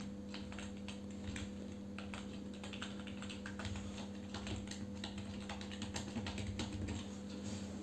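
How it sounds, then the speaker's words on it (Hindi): Steady, fairly quiet computer-keyboard typing while names are entered into an Excel school management sheet, rapid irregular key clicks over a constant low electrical hum, no voices. "जैसे मैं लिख लेता हूँ अनम दाऊद, मिस्टर परवेज़ आलम, मिसिज नरगिस,"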